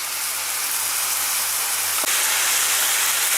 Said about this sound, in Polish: zobaczcie jak mięso się smaży